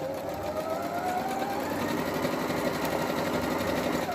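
A Singer Prodigy 5780 sewing machine runs at full speed on a simple stitch, giving a steady, close, continuous mechanical whir with a rapid needle rhythm throughout and no speech.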